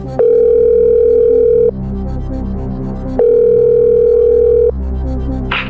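A telephone line tone sounds on a quiz show's phone-a-friend call, two long, steady beeps separated by a pause, loud over a low background hum.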